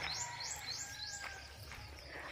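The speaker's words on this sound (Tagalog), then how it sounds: "At ang mga ibon ating naririnig na nagsiawitan." Birds singing in the countryside around Mount Lantawan, near sugarcane fields and a camp: a steady chorus of repeated high chirps and tweets at moderate distance, joined by a continuous insect-like buzz, with no talking.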